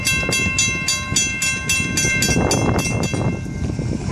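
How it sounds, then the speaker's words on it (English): FEC train 202 rolling past up close, its railcars and end-of-train device going by with a loud steady rumble and rhythmic clicking wheel beats that thin out near the end. "There goes the EOT as it passes me at 422."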